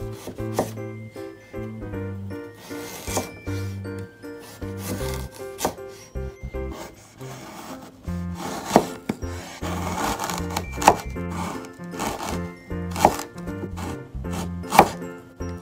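A knife slices peeled ginger thinly on a wooden cutting board, giving a steady series of near, crisp chopping taps and rubs with a few sharper knocks, heard alone without talk.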